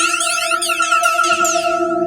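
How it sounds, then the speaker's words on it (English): A dissonant synth pairs sustained E and F notes through a chroma phaser effect, giving steady clashing tones with shimmering, sweeping upper partials that rise and fall continuously. "you get this kind of dissonant mess that sounds really cool."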